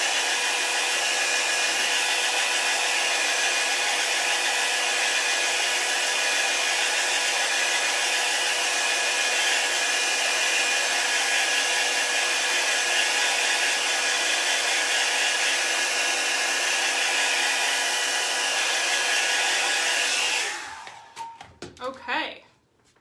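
A handheld dryer blows steadily and loudly on chalk paste on a craft project. The whir stays constant for about twenty seconds, then cuts off abruptly with a few handling clatters.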